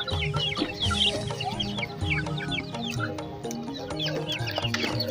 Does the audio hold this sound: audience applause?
no